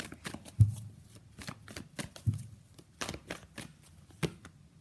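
Tarot cards are shuffled by hand in a quiet room, giving a string of soft riffling bursts and taps at an uneven pace with no talking.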